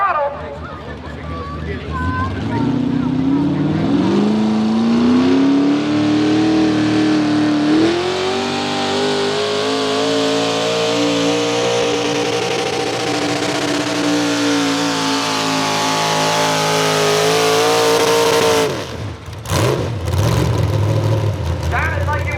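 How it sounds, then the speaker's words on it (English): A V8 modified pulling tractor at a tractor pull roars at full throttle, its pitch climbing and then holding loud and steady for many seconds before cutting off abruptly. "Sounded like it was either way up on the RPM or it was just missing"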